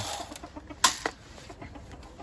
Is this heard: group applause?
no